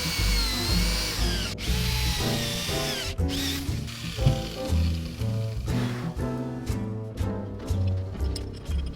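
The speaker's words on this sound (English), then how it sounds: "We just need to carve out most of the material with this Forstner bit first." A Forstner bit drills into plywood, its power drill whirring steadily with a grinding, chattering bite and brief pauses in the cut. Nobody speaks.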